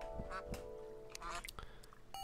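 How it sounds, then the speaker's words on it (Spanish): Short duck quacks from the Terraria video game, heard inside a cave level, arriving as a few scattered nasal bursts over quiet game ambience with faint beeps and someone talking lightly at points. "¿Por qué escucho un pato aquí en las cavernas?"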